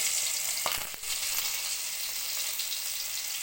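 Garlic fries in hot oil for a dhokla tempering, a dense continuous sizzle close up with a couple of brief clicks near the start.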